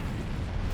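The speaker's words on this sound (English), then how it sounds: "That's a grenade." Grenade blast in a battle video game, a brief heavy boom with a dense low rumble filling the short moment, loud and close, with no voices.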